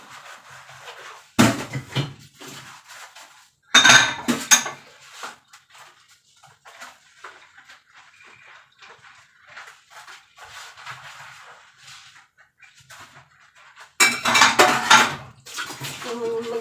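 Dishes are washed by hand, pots and cutlery clattering in sharp bursts of clinks and knocks separated by quieter stretches of running water and handling, close and fairly loud, with no talk.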